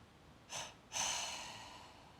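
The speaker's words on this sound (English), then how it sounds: "Try not to cut the breath too soon." Two quick, forceful breaths are drawn in a double breathing kriya, a short one followed by a longer one that fades out, close and alone in a quiet room.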